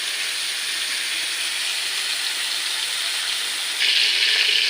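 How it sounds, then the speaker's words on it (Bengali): Shrimp fry in hot oil in a pan, giving a steady, close, even hiss of sizzling that grows slightly louder near the end, with no talking. "এবার আমি চিংড়ি মাছগুলো ভেজে নেব ভালো করে।"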